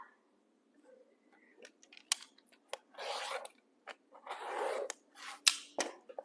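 Fabric for a quilt block is trimmed with a blade along a Tucker Trimmer ruler, heard as a series of short, close scraping cuts and rasps separated by pauses, with two longer strokes in the middle and no talking.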